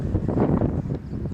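Wind buffets the microphone outdoors beside a Sprinter camper van under conversion, a loud continuous low rumble with gusty swells and no voices.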